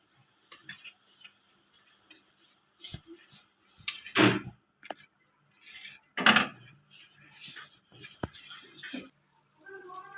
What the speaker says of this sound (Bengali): ঠান্ডা জল দিয়ে গুলে নেব।